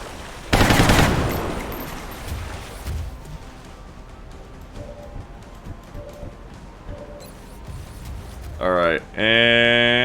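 Gunfire in the modded strategy game XCOM Long War: a loud, sharp burst of shots early on that decays into quieter scattered impacts and effects, followed by bright electronic tones near the end.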